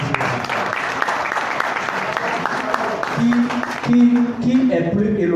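Conference audience applauding in a broad, steady wash of clapping, with a voice cutting in toward the end.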